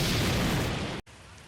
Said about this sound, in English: the bomb bounce height has been increased and the explosion timing has been delayed by 14 frames